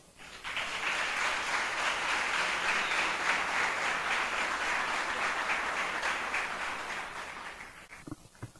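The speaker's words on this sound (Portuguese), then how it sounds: "Recebamos agora, com uma salva de palmas, o Padre Marcos." A lecture audience at a conference symposium gives sustained applause, dense and even for about eight seconds before tapering off into a few scattered claps.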